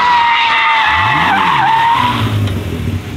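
A BMW E36 car skids around a corner with a loud, sustained tire squeal that wavers in pitch over its engine note, close and continuous before easing off.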